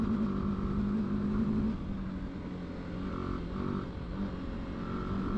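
An adventure motorcycle rides steadily along a sandy dirt trail with washboard ruts, its engine droning loud and close throughout with slight dips in load and no talk.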